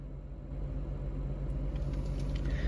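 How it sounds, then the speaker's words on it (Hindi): The CNG engine of a 2022 Maruti Eeco idles with a steady low rumble and vibration, continuous and fairly loud from inside the van with the AC switched off. "इंजन की वाइब्रेशन आप सुन सकते हो भाई कैसी आ रही है।"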